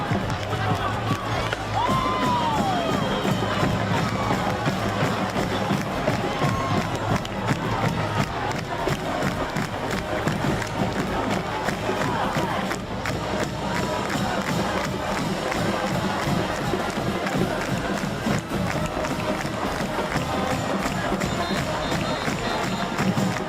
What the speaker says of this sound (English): head coach Andy Litton is firing up the crowd on the sideline for Mountain View